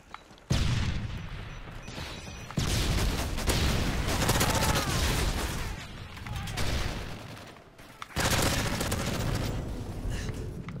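Dense gunfire in a Modern Warfare 3 Search and Destroy match from a PP90 with extended mags. Loud, nearly continuous bursts and rattles come in sections separated by brief drops, with no clear voice over them.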